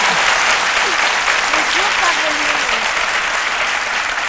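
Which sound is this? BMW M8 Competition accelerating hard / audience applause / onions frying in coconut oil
audience applause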